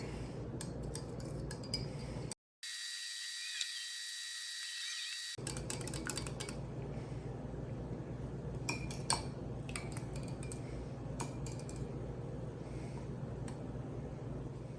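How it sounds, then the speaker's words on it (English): Quiet, steady tapping and clinking of a whisk beating an egg mixture for macaroni and cheese in a bowl, rapid and continuous, interrupted by a brief high-pitched electronic tone. "here we're just using a whisk. And we whisk it all together."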